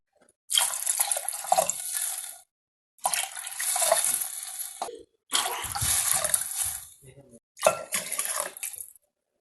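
Water is poured into a cooking pot for broken wheat pongal in four long splashing bursts separated by short pauses, loud and close, with brief clinks between pours.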